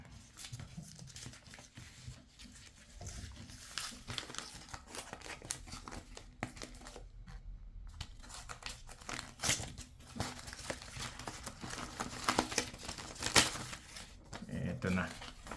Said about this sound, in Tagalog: bubuksan natin tong ating sobre